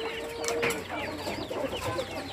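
Broiler and hybrid chickens cluck steadily on a farm in Abidjan, several birds close by with overlapping calls and a brief high squawk against constant barnyard noise.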